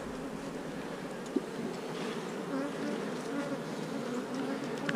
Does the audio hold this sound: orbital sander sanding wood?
no